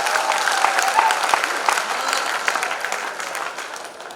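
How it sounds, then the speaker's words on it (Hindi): A live audience at a Hindi poetry recital (kavi sammelan) breaks into loud, sustained applause that fills the room and slowly tapers toward the end, with faint voices underneath. "मैं इस क्षण के लिए आप सबसे तालियां मांगना चाहती हूँ।"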